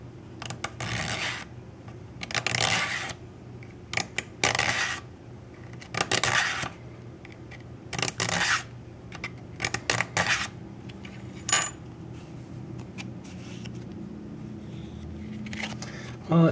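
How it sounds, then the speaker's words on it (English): A plastic gift card is sharpened by hand, with repeated short scraping and rasping strokes in uneven bursts, close and fairly loud, separated by brief pauses. "sharpen a credit card, or specifically this gift card, to make it sharp enough to cut a tomato"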